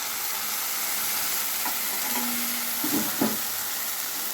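Ground spice paste and powdered spices fry in a pan for a katla fish curry, a dense steady sizzle with a few brief stirring scrapes and clatters.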